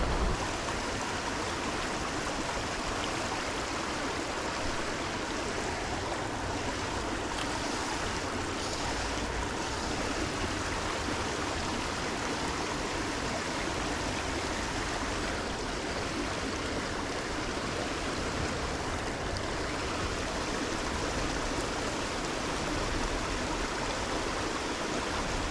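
A tiny river stream flows in an unbroken, close rushing wash of water, steady and fairly loud for the whole stretch, with no talking.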